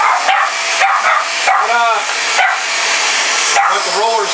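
Dogs barking and yipping excitedly at a Shark Rocket MV481 vacuum cleaner, several close, loud barks and whiny yelps in quick bursts over the vacuum's steady whooshing hum.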